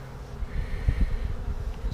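Bees buzz steadily around an opened Flow Hive, a close, continuous low drone with small fluctuations and no voices.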